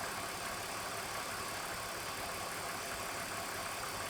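Refrigerant hissing as it flows into a BMW E46 air-conditioning system with the engine running: a steady broadband rushing hiss over a constant engine hum, loud and unbroken throughout.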